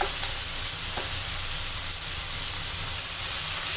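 Shrimp fry lightly in a pan while being turned over. A steady, close, loud sizzle and hiss runs without a break, with faint stirring scrapes and no voices.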